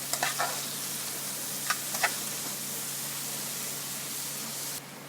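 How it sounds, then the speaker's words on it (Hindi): Onions frying in oil until light brown for an aloo matar curry, a soft continuous sizzle with a few faint crackles early on, close and steady without talk. "प्याज को लाइटली ब्राउन कर लेंगे।"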